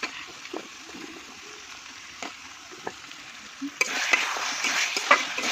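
Liver with jackfruit seeds stir-fried in oil in a pan over a clay stove, with steady sizzling, scattered spoon scrapes and a louder, brighter burst of frying near the end.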